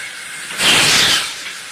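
A steam engine hisses loudly as the train comes to a stop, a single broad burst of steam that swells up, holds for about half a second and then fades back to a steady low hiss.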